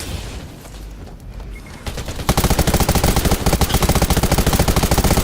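Rapid automatic gunfire from the video game Undawn erupts after a quieter opening and continues loud and steady in a fast rattling stream until the end.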